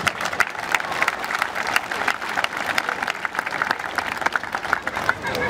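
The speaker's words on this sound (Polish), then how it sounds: "Wielkie brawa" Football supporters of Ruch Chorzów applauding at an outdoor fan meeting on the market square in Chorzów, steady dense clapping from a sizeable crowd that carries on throughout, with faint voices mixed in.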